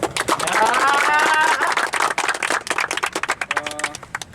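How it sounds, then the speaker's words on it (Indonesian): Applause and clapping from a group honoring an U17 football team, dense broadband claps with crowd noise and some voices mixed in, loud at first and thinning into scattered individual claps toward the end. "Tepuk tangan dulu."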